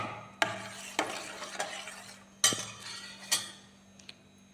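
A spoon stirs a banana and milk mixture in a container, giving a series of sharp clinks and taps against the sides at irregular intervals, close and fairly quiet.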